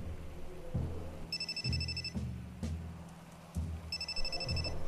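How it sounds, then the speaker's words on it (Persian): A telephone rings in repeated electronic bursts over background music, two clear rings a few seconds apart. "زنگ میزند"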